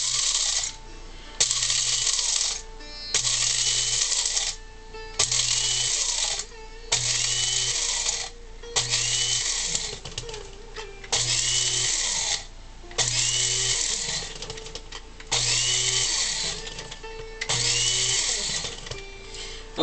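An electric coffee grinder pulses coffee beans for a French press coarse grind, about ten short bursts of loud whirring and rattling, each lasting roughly a second and separated by brief pauses.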